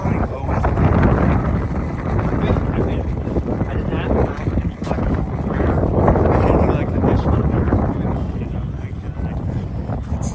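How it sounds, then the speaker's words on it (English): Strong wind at Disney's Animal Kingdom buffets the microphone in a continuous loud roar of low rumble, with a voice talking faintly underneath at times. "The wind is blowing really hard, guys."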